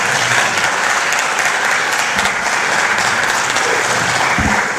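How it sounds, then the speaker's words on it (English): A conference audience applauds a minister's address, a loud, sustained burst of dense clapping from a large crowd that holds steady for the whole stretch without voices. "Please join me in applauding the Honorable Minister for his intervention this morning."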